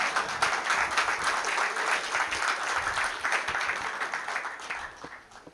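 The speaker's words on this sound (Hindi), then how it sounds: "बहुत कम ताली बजाई तुम लोगों ने मेरे आने पे" Sustained audience applause at a Hindi poetry gathering greets a poet's arrival, thick and steady before fading toward the end.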